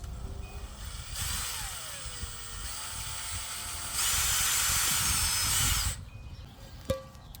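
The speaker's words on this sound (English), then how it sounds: "So now it's time to drill some holes for the shower head." A power drill bores holes for a shower head in a Halloween decoration build, whirring in steady near bursts from about one to six seconds, the last stretch louder and higher pitched, then stopping with a single knock.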